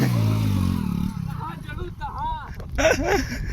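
A 4x4 tractor engine runs during field levelling work, a low rumbling drone that is strongest at first and then fades under clattering and people talking.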